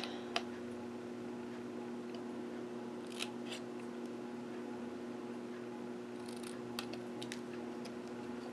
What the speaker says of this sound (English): I'm going to snip it shorter and add a flag